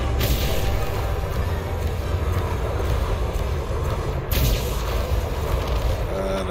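A large ship explodes in a space combat zone in Elite: Dangerous, a loud rumbling boom under steady engine drone, with a sharp burst at the start and another blast about four seconds later.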